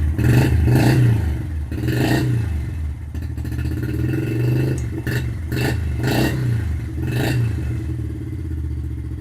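A 2013 Yamaha engine is cold started with full choke, giving repeated rhythmic pulses of mechanical clatter and revving, loud and close with no talk over it.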